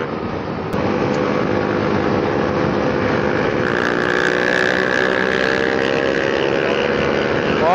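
Apache RR 310 and RC 200 motorcycles with loud Akrapovic exhausts roaring continuously, a dense droning engine sound that swells and holds steady with a rising tone midway.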